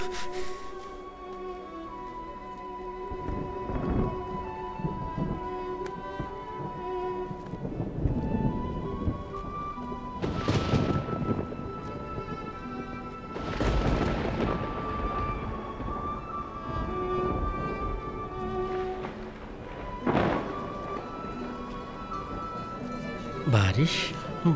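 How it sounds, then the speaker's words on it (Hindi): Heavy rain falls steadily under repeated rolls of thunder, several deep rumbles swelling and fading every few seconds, with people talking throughout. "देखो बारिश आ रही है।"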